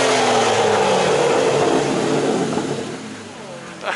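An Aston Martin Vanquish revs hard at a Malaysian car club meet, a loud rising engine roar that fades over a few seconds with voices and crowd noise underneath.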